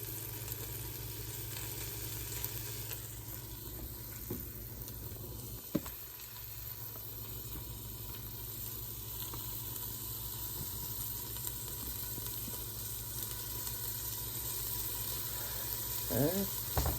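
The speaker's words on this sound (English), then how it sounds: "I'm gonna just let that sizzle" Collard greens frying in a pan give a steady, fairly quiet sizzle over a constant low hum, with a brief clatter of utensils near the middle and no talking.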